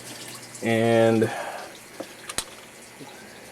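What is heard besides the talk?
water siphoning out of aquarium tank into sump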